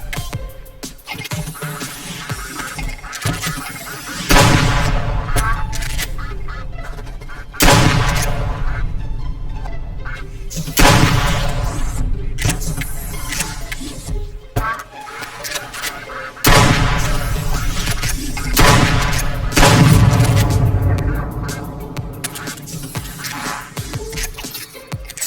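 Repeated shotgun blasts during a duck hunt, about five loud sharp reports spaced a few seconds apart, each followed by a ringing tail, with faint voices in between.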